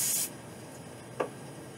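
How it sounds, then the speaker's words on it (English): A short, loud burst of aerosol hairspray hissing for a quarter second, followed by quiet and a faint brief rustle. "I'm going to spray the very tippy top"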